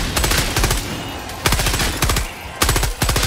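Bursts of automatic gunfire from Helldivers 2, three loud rapid volleys of closely spaced shots separated by short pauses, with no talk over them.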